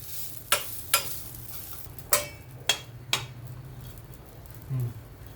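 Rice flour being sautéed in ghee for kheer, with a spatula scraping and stirring in sharp strokes, five or so close scrapes over a faint sizzle, then a short low thump near the end.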